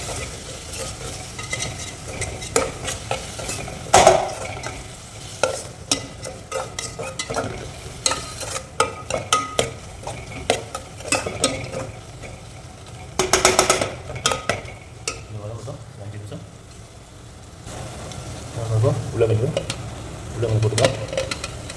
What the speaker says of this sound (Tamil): அதில் பெப்பரை மிக்ஸ் பண்ணிடலாம்.